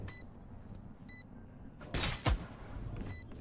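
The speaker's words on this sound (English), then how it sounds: "Break the glass." A glass pane shatters in the Valorant video game during a college esports grand final, a short bright crash with falling shards, heard over low background game noise and faint beeps.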